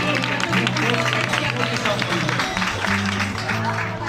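An audience at an international school event claps steadily for students, a dense wash of applause heard close, with a voice speaking over it and a low musical tone underneath.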